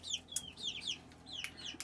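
Chickens in a backyard coop give a run of soft clucks and short chirpy calls, several birds close by, quiet and intermittent with no talk.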